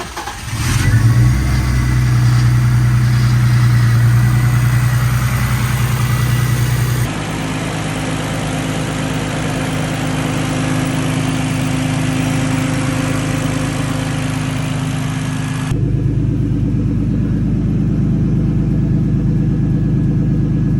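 A BMW E46 fitted with a CXRacing turbo kit cranks and fires for the first time, then settles into a loud, steady idle rumble with shifts in tone.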